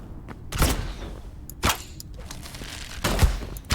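Gunfire in the Hytale video game, three separate sharp bursts about a second apart, loud and close, with no speech over them.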